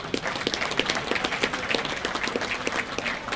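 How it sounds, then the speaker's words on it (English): A banquet audience applauds a beverage distributor sponsor, with dense, steady clapping from many hands in a large room, continuing evenly for a few seconds without a break. "So let's give Lakeshore Beverage a round of applause."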